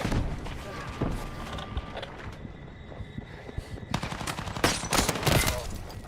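Gunfire and explosive thumps crackle in a Battlefield 6 match, with bursts of rapid shots and heavy blasts growing denser toward the end, mixed with game sounds.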